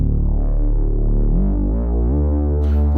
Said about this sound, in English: Then we have this bass preset coming in from Sylenth.